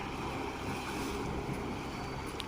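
A small boat moving across a creek mouth during traditional fishing, a continuous rough rumble of hull slapping water mixed with wind noise on the microphone.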